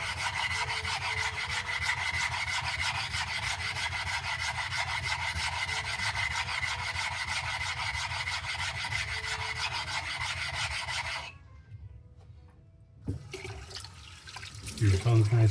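A knife is ground on a wet whetstone with steady, close rasping strokes for about eleven seconds. The grinding then stops, and a burst of running water follows.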